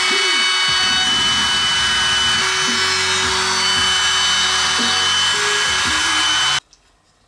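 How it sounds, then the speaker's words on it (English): A router spins in wood as it cuts a round-over edge on a rocking chair part, a loud, steady high whine with shifting lower tones as it moves along the piece, then cuts off abruptly near the end. "I'm going to run along the outside of it and put our round overs there."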